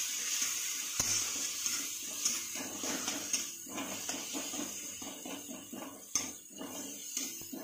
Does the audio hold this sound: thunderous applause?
no